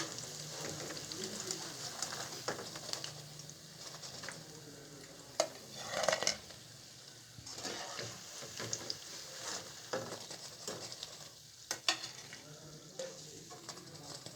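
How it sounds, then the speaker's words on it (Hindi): Potato pakoras fry in hot oil with a soft, steady sizzle. Occasional scraping and clinking of a utensil break through now and then, and a faint cooing bird can be heard in the background. "और इस तरीके से हम बाकी पकोड़ों को भी फ्राई कर लेंगे।"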